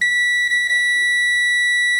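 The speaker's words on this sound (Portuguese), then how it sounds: "E aqui o bip." A multimeter in continuity or diode test mode gives a single steady high-pitched electronic beep, loud and close, sustained for about two seconds and then cut off.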